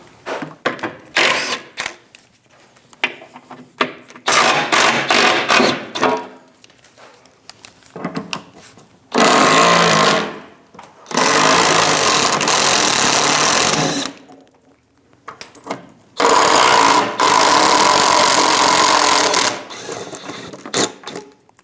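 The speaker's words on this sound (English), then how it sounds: "Using a 15mm socket, remove the bolts for the bottom shield." A tool on a 15mm socket removes bolts from the bottom shield of a 2001-2006 Chevrolet, heard as several loud, close bursts of rapid mechanical ratcheting and whirring separated by quiet gaps.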